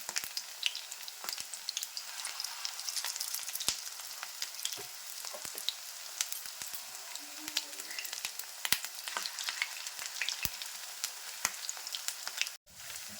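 Battered fish pakoras coated in cornflour bubble and crackle steadily in hot oil, a dense, continuous sizzle with scattered sharp pops, close and alone, ending in a brief dropout near the end.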